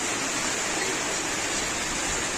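Rain falling outdoors near a pigeon loft, a steady, even hiss of drops with no breaks, heard alone without talk.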